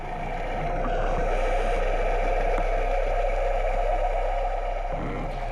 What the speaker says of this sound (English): That noise is Matt on the boat coming over to see us